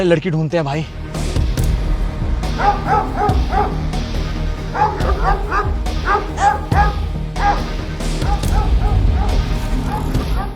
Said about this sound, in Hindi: कुत्ता भौंक रहा है आपने, वहाँ देखे?